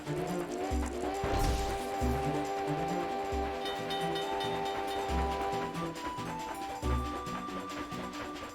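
Train crash from the video game The Legend of Zelda: Spirit Tracks, with a loud crash and clatter near the start, then rhythmic chugging, rattling and metallic hits under continuous game music.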